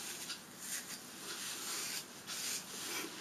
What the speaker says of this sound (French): Je brosse un petit peu.